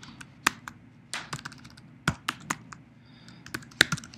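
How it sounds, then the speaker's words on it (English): Irregular clicks and taps of computer keyboard typing, close and fairly quiet, in uneven bursts with short pauses. "Typing is really bad today, sorry."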